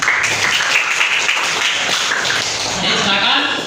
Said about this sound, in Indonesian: Oke, kita tepuk tangan untuk kita semua.